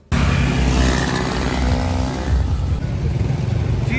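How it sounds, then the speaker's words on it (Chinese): Motorcycles crowd a busy evening street in Vientiane, Laos, their engines forming a loud, dense, continuous drone with revving close by and the rush of traffic passing. "这边摩托车应该是下班了，全部都涌入这边来了"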